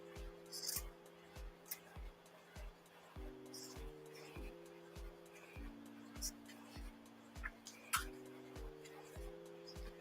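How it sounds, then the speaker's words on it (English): Scissors trimming pieces of a scrap wood gnome craft give a series of sharp, regular snips over a steady tonal hum, close and fairly quiet. "I'm just kind of trimming it up with some scissors."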